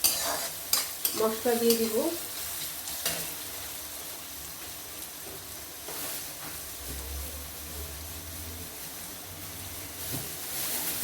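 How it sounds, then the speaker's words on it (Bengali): Onions frying in a pan while being stirred, a steady sizzle with scraping stir strokes, brief speech near the start and a low hum later. "পেঁয়াজগুলো একটু ভাজা ভাজা হোক, লাল করবো না"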